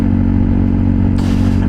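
A motorcycle ridden to school drones loudly and steadily from close up, its engine hum constant, with a burst of wind noise joining near the end.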